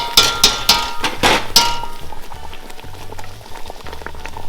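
Red chicken mole sauce made with fresh chicken broth bubbles steadily in a pot. The close, continuous simmering carries a few sharp metallic clinks at the start.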